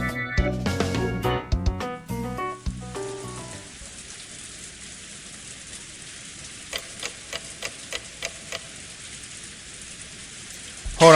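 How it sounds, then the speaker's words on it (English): Heavy storm rain pours steadily in a visual novel game, a constant hiss of rain on surfaces following a few bright musical tones at the start, with scattered ticking drops and no voices. "The rain was still pouring down, as hard as ever."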